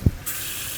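Water poured from a bowl into a hot cast iron pan gives a short thump followed by a loud, close hiss of spray and steam that carries on steadily to the end.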